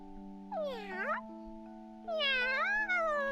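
A voice imitates a cat with two drawn-out, wavering meows, cat-girl style, for the video game Nekopara Vol 4, close and clear with a pause between them over a quiet background tone.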